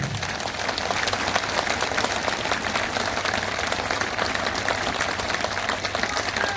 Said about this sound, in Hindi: इसलिए आज हम यहाँ पे उपस्थित सभी लोगों से निवेदन करेंगे कि सम्राट अशोक की स्मृति में उनके लिए एक जोरदार ताली बजा दें